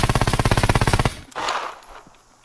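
A rapid full-auto burst from an Mk18 rifle fired from the hip in the game Scum, about fifteen loud, evenly spaced shots in roughly one second, then a fading echo and a faint thud.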